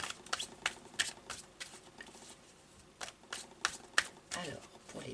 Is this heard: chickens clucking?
no